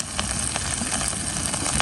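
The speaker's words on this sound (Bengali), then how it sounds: "এখন তেলের সাথে ভালো করে ভেজে নেব।" Shrimp frying in oil with salt and turmeric sizzle with a constant, close crackling hiss and scattered small pops, steady and unbroken throughout.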